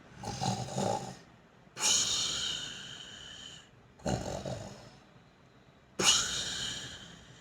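A voice imitates snoring: four drawn-out rasping breaths alternating in and out, gentle and close, with pauses between.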